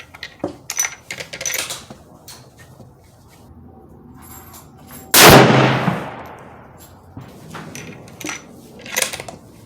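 A single loud rifle shot from a Tikka T3X Lite firing Hornady Whitetail 150 grain ammunition at a 100-yard range, a sharp crack with a long decaying tail, amid quieter handling clicks and rustles before and after.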